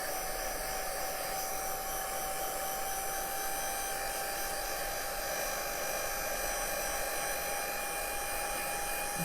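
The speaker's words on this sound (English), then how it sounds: "Just happen to have the heat tool handy." A heat tool on its low setting blows steadily to dry a craft project, a constant even whooshing hum that stays loud and unchanging throughout with no talk.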